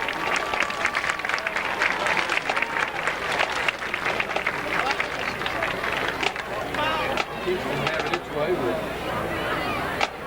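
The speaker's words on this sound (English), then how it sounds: "One last applause for the Loudon High School Marching Band." A stadium crowd at a high school football game applauds the Loudon High School Marching Band, a broad sustained roar of clapping and chatter with an announcer's voice heard through it.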